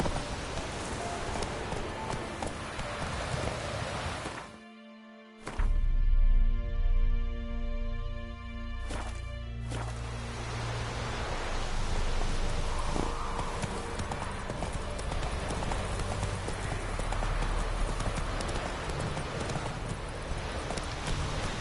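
Geralt's horse Roach gallops in The Witcher 3, hooves drumming in a fast, steady clip-clop over a rainy backdrop, with a brief drop-out partway before the pounding resumes, close and loud.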